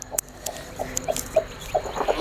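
A brooding hen near her newly hatched chicks gives soft, low clucks in a loose series of short calls, close by, with a brief sharp sound near the start.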